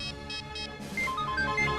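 A phone rings on and off without being picked up, a short electronic ringtone repeating in quick pulses, then shifting into a brighter melodic tone, close and clear with no talk.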